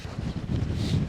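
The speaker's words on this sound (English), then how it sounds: "The wind is swirling." Gusty mountain wind buffets the microphones on Caherconree on Ireland's Dingle Peninsula, a close, low, uneven rumble rising and falling throughout, with no talking.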